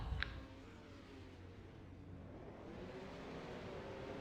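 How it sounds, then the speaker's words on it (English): Race car engines rumbling on the grid at Bathurst in a GT series sim racing game, a faint low steady drone with a rising rev toward the end and a short click at the start. "Alright, revs are building."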